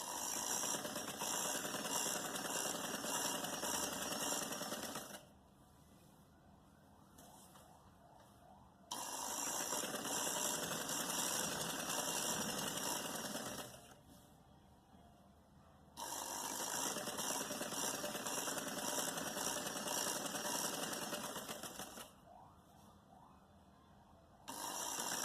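Sewing machine stitching lace onto the lining of an angrakha-style kurti, running in steady bursts of about five seconds separated by quieter pauses, close and alone with no talk.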